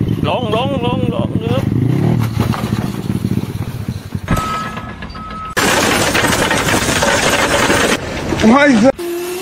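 A small engine buzzes and revs loudly and unevenly at close range, cutting out abruptly partway through as it fails, before noise resumes, with voices mixed in.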